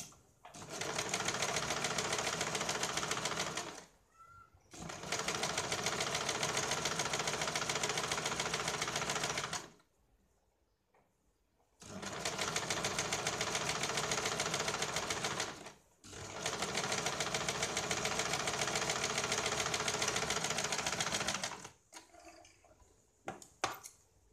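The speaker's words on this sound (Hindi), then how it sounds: "अब इसके ऊपर हमें डबल सिलाई लगानी है।" A sewing machine runs double stitching on a katori blouse, four long steady bursts of rapid whirring, each several seconds long, separated by brief pauses and a short silence midway, close and loud with no talk.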